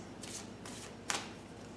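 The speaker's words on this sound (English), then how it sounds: "I'm going to go ahead and start shuffling." Tarot cards are shuffled close up in three quick riffling bursts, each a soft papery flutter with short pauses between, the last one slightly sharper, in a quiet room.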